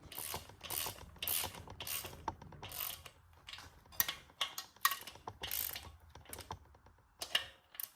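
Ratcheting clicks from a torque wrench tightening bolts on a VW Type 1 1600cc engine, arriving in repeated close bursts of sharp mechanical clicking separated by brief pauses.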